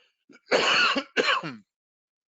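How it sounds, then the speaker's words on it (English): A person coughs and clears their throat in two harsh bursts, close and loud, followed by silence. "sorry for that little bit there, cough"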